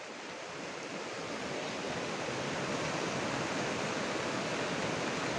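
A swollen river in flood rushes past with a steady, heavy, broadband roar, constant and unbroken, with no voices.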